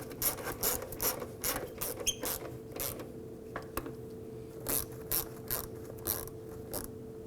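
A hand ratchet clicks in quick bursts while snugging down trailing arm bushing bolts on a 2008-2011 Ford Focus, close and fairly quiet, with short pauses between the runs of pawl clicks.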